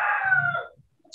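A rooster crows once, loud and close, its drawn-out call tapering off into near silence with a faint sound at the end.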